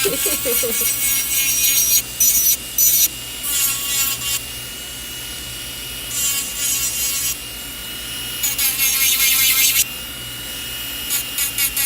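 A long stiletto nail is filed down in steady back-and-forth rasping strokes, loud and close, coming in bursts with short pauses between them.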